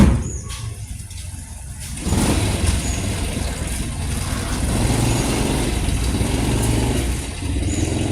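A car passes by on a street outside a roadside fruit shop in the early morning, its engine rising to a steady mid-pitched drone that holds for several seconds after a quieter start.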